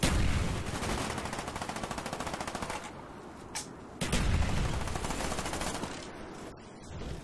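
Dense gunfire in Call of Duty Black Ops multiplayer on PS3: sustained rapid automatic bursts fill most of the stretch, broken by a brief lull and a sharp single shot before loud firing resumes.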